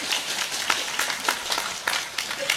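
Scattered hand claps from a small group at an evening religious sermon gathering, honoring the event committee, patter unevenly at moderate volume for a couple of seconds.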